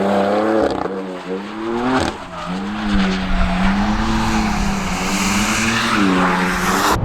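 A BMW M4 GTS on a track slides through a drift, tires squealing in long, wavering wails over a loud, strained engine roar, with a brief dip in the middle before the screech resumes.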